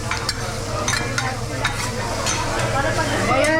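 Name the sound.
fried rice being stirred and fried with fresh egg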